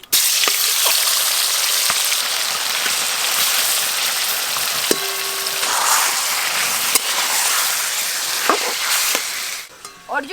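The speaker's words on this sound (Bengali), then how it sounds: "চিকেনের পিসগুলো ভেজে নেব" Spiced chicken pieces fry in hot oil, giving a loud, continuous crackling sizzle close up, with occasional clinks and pops and a brief tonal beep partway through.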